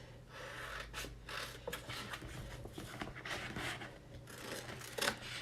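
Scissors snip around vinyl stickers cut for a custom water bottle, a series of close, crisp cuts in an uneven rhythm with soft rustling of the vinyl sheet between them.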